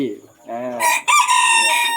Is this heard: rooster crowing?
yes